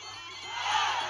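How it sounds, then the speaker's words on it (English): A crowd at a 72 kg kickboxing fight between Thoeun Theara and Michael roars and whoops. The cheering swells louder across a short burst. "The crowd loving it."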